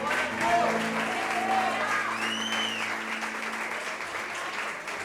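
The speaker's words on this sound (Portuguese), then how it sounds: "Dê um aplauso ao Senhor e um grito de glória a Deus" Congregation in a church applauding during a revival service, a steady dense wash of clapping with some voices and tones mixed in underneath, fairly distant and sustained throughout.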